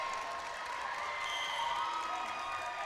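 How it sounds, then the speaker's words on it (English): A crowd applauds and murmurs at a Canadian national dodgeball championship semifinal, producing a steady, moderately distant wash of clapping and cheering that carries evenly for about three seconds. "Applause here from the crowd"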